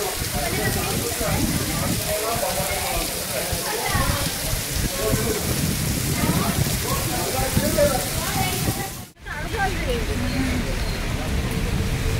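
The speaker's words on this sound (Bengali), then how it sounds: "এই জোরে বৃষ্টি চলে এসছে" Steady heavy rain roars and splatters on surfaces at a Ganges riverside ghat in Sodepur, with voices talking through it and a brief dropout near the end.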